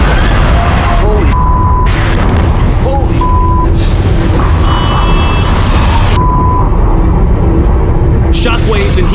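A huge factory explosion and its shockwave produce a continuous, very loud, heavy rumbling roar, with voices talking over it and short electronic beeping tones cutting in.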